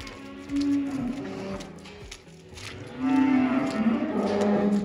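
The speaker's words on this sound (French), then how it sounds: "on a vache Tari et les génisses, voilà" Cows and heifers mooing inside a farm barn, two long low calls close by, the second louder and drawn out, with faint barn noise between them.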